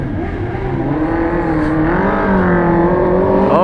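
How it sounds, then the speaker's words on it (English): Several vehicles rev their engines hard while doing burnouts at a street gathering in Ybor, a loud, sustained roar with rising pitch and steady intensity throughout. "They're doing the burnouts."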